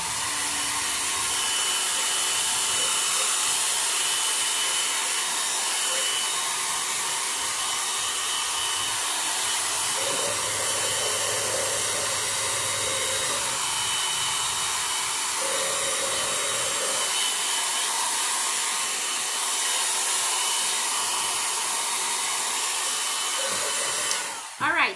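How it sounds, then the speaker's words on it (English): A hair dryer blows steadily and loudly for a long stretch while drying a painted craft jar, its airy whoosh shifting slightly in pitch as it moves, then cutting off abruptly at the end. "you're gonna take your hairdryer and you're gonna dry the outside"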